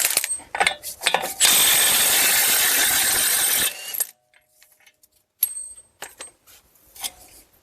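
A breaker bar with a 32 mm socket works loose a wheel nut on a 2010–2016 Buick LaCrosse, giving a steady rasping mechanical burst of about two seconds, framed by scattered close clicks and knocks of tools.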